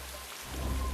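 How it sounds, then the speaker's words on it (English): Steady rain falls close by, a dense broadband hiss that swells louder halfway through, with no voices over it. "looks like rain again."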